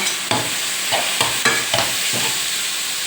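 Squid being stir-fried with dark soy sauce for a spicy Thai basil stir-fry, with a steady sizzle in a hot pan and a few spatula scrapes and stirring knocks at irregular intervals, no voices.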